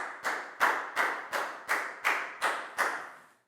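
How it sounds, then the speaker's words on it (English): Eight evenly spaced claps ring out one after another in a school classroom during a health lesson, each a sharp slap with a short decay. They are fairly faint, and no one speaks. "Big round of applause"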